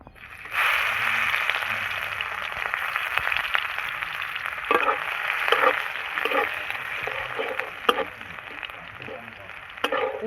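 Garlic, onion and a dried red chilli frying in a pan for a fish and vegetable curry give a steady close sizzle, broken later by several sharp clinks and scrapes of a stirring spoon against the pan.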